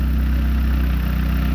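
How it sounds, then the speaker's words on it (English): SOHC turbo engine on a dyno running rough at about 14.7 air-fuel, a loud steady low drone with an uneven, pulsing beat throughout. "you can hear how the engine doesn't want to run smooth."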